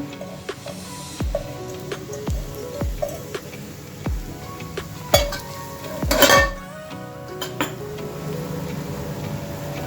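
Mashed pigeon pea paste being stirred into masala in a pan, with repeated sharp clinks of a spoon against the metal pan, a few louder scrapes midway, alone with no talk.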